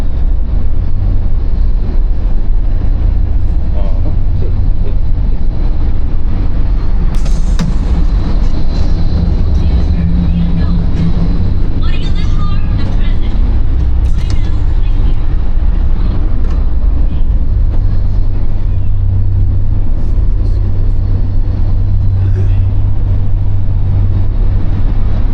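Inside Morocco's new high-speed bullet train at speed: a loud, unbroken low rumble and roar of the carriage that runs the whole time, with faint brighter hiss and rattles on top.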